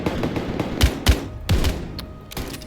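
Gunfire in a shooter video game, several sharp close shots spaced irregularly over a few seconds, with a low bed of game noise between them.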